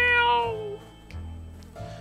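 Cat meowing in the survival game 60 Seconds: a clear, drawn-out harmonic meow at the start, falling in pitch, followed by quieter game ambience and a faint second cry near the end, with no voices.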